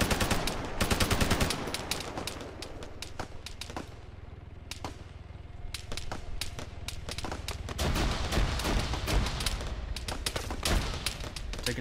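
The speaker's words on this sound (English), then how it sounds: "He's shooting at me." Arma 3 gunfire crackles in dense automatic bursts and single sharp shots, loud and close, with a short lull midway before the firing picks up again.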